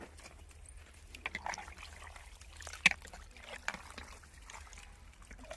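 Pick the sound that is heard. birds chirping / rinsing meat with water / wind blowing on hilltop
rinsing meat with water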